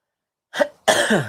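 Two harsh coughs close to the microphone, a short one followed after a brief pause by a longer, rougher one.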